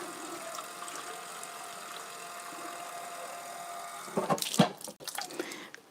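Water is poured from a can into a pot holding evaporated milk for a veggie white sauce, a brief splashing gush near the end over a low background hum.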